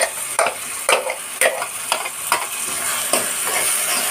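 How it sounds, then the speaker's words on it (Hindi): Fried masala puree sizzles in a kadhai for paneer while a spoon scrapes and stirs it in steady, evenly spaced strokes over a constant frying hiss. "अब हम फ्राइड मसाले की प्यूरी को इसमें ऐड करेंगे।"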